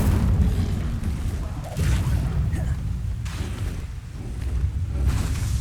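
Fire spell cast in the video game Hogwarts Legacy, a dense continuous roar of flame and rumbling booms with whooshing swells, steady and loud throughout without speech.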